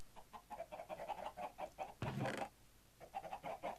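Chickens on a video game chicken farm cluck in quick, repeated bursts, with one louder squawk in the middle, heard close and alone without talk.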